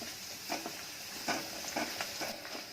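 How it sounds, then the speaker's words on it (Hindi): Garlic and onion frying in oil for a dal tadka, a steady soft sizzle with occasional scrapes and stirs of a ladle, fairly quiet and without speech. "लहसुन को भी अच्छे से भून लेना है, प्याज भी ब्राउन कलर का हो जाए तब तक इसको भूनना है।"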